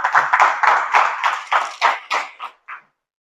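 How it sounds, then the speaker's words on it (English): A small audience at a men's appreciation breakfast gives a short round of applause: about a dozen distinct, close claps in an even rhythm that gradually spread out and soften before stopping. "can we get a round of applause for our first speaker"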